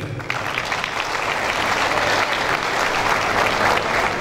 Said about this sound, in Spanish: El aplauso de los presentes.